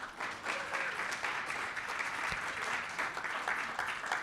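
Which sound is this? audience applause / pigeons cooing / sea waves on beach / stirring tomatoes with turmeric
audience applause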